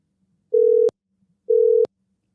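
Two identical electronic phone tones, each a steady beep about a third of a second long, repeating at a regular one-second interval against silence.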